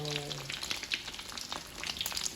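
Eggs frying in oil for southern Thai son-in-law eggs make a faint, dense crackle and sputter with scattered pops, alone and close.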